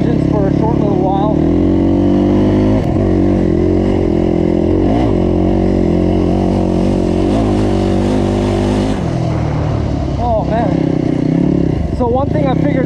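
A GasGas EC250F enduro motorcycle fitted with a Yamaha YZ250F four-stroke engine runs close and loud, holding a steady buzzing rumble with a few throttle blips toward the end while a person talks over it.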